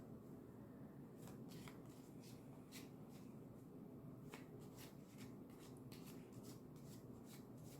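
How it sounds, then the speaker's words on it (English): Tarot cards being shuffled by hand: soft, repeated riffling and slapping taps at an irregular rhythm, very faint and close, with no voices. "Let's pull one more card."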